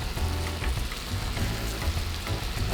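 Chicken and green beans, with tomatoes just added, sizzle and fry steadily in a pan while being stirred, a dense close crackle with occasional scraping stir sounds throughout.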